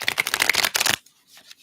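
Tarot cards being shuffled by hand during a live reading, a dense, rapid riffling flutter of about a second that stops abruptly, followed by near silence with only a faint rustle.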